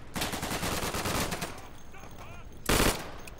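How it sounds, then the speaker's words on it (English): Automatic pistol firing in the WWII shooter game Day of Infamy: a rapid, close burst of rattling shots for about a second and a half, a brief lull with faint ringing, then another loud sharp blast near the end. "Oh, it's automatic pistol."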